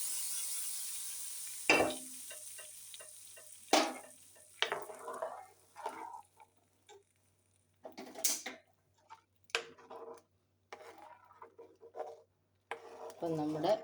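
Spices tempered in hot oil for a moru (buttermilk) curry sizzle and crackle in irregular bursts. Sharp pops and brief clatters are separated by quiet gaps, and there is no speech.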